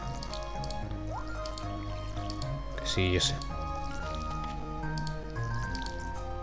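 A watering can splashes and drips onto crops in the Stardew Valley game, a short liquid burst over gentle background game music, while someone talks briefly.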